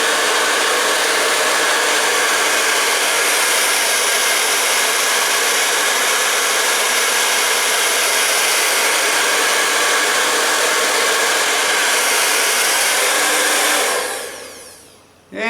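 A Conair InfinitiPro 1875W hair dryer runs on its cold shot setting, giving a loud, steady, close airy roar that holds unchanged for about fourteen seconds before cutting off.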